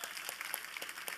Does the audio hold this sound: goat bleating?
no